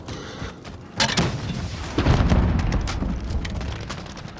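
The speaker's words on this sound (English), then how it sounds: "I keep firing rockets in that window." Rockets fired in a shooter video game burst in a series of heavy booms about a second apart, each followed by rumbling, crackling debris that keeps the din loud throughout.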